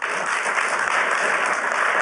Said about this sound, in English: everybody's clapping for it